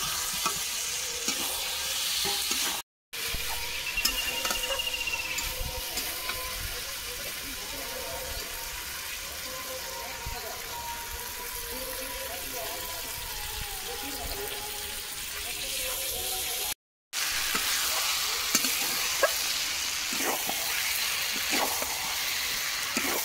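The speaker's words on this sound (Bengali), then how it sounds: "ভেজে রাখা আলু দিয়ে দেবো।" Fried potatoes are stirred into sizzling spiced masala in a pan while cooking a festive Bengali dish, giving a steady close frying hiss with intermittent scraping, broken by two brief silent cuts.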